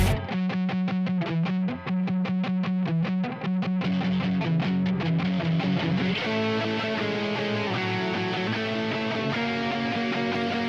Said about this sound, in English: So you can see I add this guitar part in halfway through that verse.